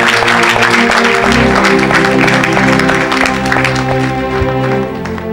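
A church congregation applauds loudly together in a dense, sustained burst, with voices and music mixed in underneath.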